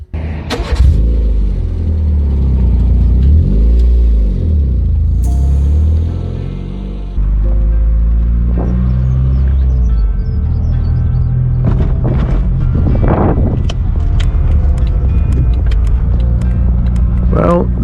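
Peugeot 106 Quiksilver with an aftermarket exhaust, a deep loud rumbling idle broken by several sharp revs that swell and fall, with a brief dip midway and a few quick blips toward the end.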